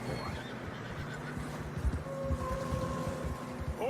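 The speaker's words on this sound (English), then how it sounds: "Horses are struggling." Horses neigh and whinny from a snowy mountain trail in Red Dead Redemption 2, a drawn-out whinny standing out over hoof clops, crunching snow and low steady wind.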